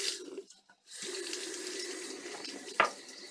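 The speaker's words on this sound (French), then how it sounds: "je vais allumer l'eau" A kitchen tap is switched on after a brief pause, warm water running steadily into a sink, close and continuous, with a small clatter near the end.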